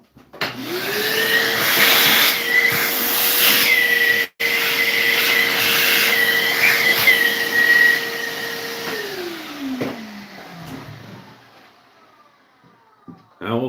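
A router cuts into a guitar body's wood with a loud, steady high-pitched whine that holds for about eight seconds and then winds down. Faint clatter follows near the end.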